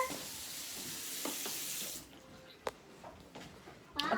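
Tap water runs steadily into a cup at a home sink, a loud continuous rush for about two seconds before it shuts off, followed by faint clinks and handling sounds.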